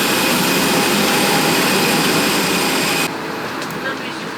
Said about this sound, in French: Dernier avion de ce périple incroyable